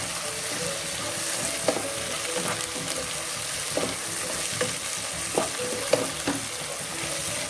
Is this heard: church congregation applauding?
no